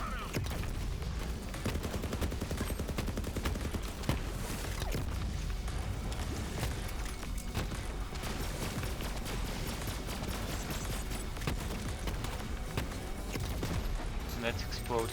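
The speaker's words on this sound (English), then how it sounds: "it seems like he's using 2 railguns as well" Railgun fire in Borderlands 3 from an Iron Bear mech build, a dense, continuous barrage of heavy shots and booms with someone talking over it.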